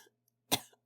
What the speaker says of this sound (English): Another cough interrupted me just as I tried to rise